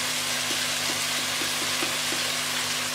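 Ivy gourd (tindey) frying in a pan, a steady close sizzle with faint stirring taps scattered through it, no voices.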